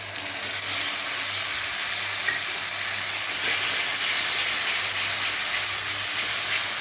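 Onion paste fries in a pan for a pabda fish jhal, giving a continuous broad sizzling hiss that stays close and steady throughout, swelling slightly midway, with no talking.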